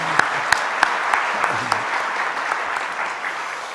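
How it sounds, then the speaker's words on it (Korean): A church congregation applauds steadily for several seconds during a Sunday worship service, dense clapping with a few sharper claps standing out, fairly loud and close. "하나님께 영광의 박수를 돌릴까요?"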